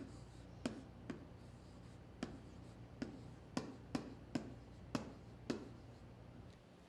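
A pen taps and strokes across a Surface Hub 2S touchscreen slide, about ten sharp, irregular clicks standing out over a quiet room hum.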